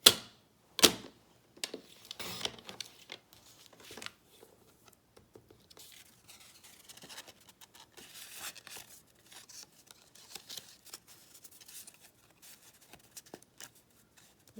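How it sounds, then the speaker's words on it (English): A Stampin' Up! paper trimmer cuts through a stack of designer series paper, giving a sharp initial snap followed by a soft, rapid crackling scrape as the blade slides through, close and quiet with no talk. "Let's see how many pieces of designer series paper we can stack on top of each other and still cut."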